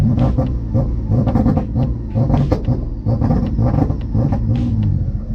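A twin-engine Mazda MX-3 drag car holds its front engine on a two-step limiter: a loud, close, choppy rumble of rapid stuttering pops and bangs that continues steadily without a break.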